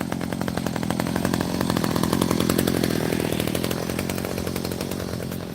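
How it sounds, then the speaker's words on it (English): A chainsaw runs outdoors at a bird sanctuary in Cape May, New Jersey, its engine buzzing loud and steady with a rapid rattling rhythm, holding near-constant revving from start to finish. "There's the human wielding the chainsaw."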